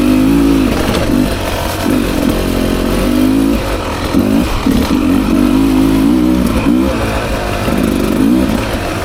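A 2024 Beta 300 RR Race Edition dirt bike is ridden on a single track trail, its loud engine droning close by with repeated rises and dips in revs as the throttle is worked.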